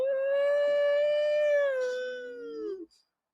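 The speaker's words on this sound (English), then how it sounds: "The dogs are barking." A single long, steady dog howl holds a clear tone for nearly three seconds, then bends downward and cuts off into silence; loud and close, with no barking or talk.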